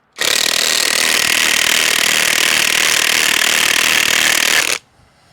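A DeWalt DCF899 or RIDGID R86221 high-torque impact wrench driving into a log, one loud continuous hammering rattle lasting several seconds before stopping abruptly.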